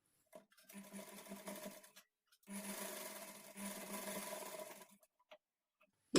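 A sewing machine stitches the shoulder joint of a lined blouse at a half-inch margin. Two steady whirring runs are separated by a short pause, close and clear, with no talking.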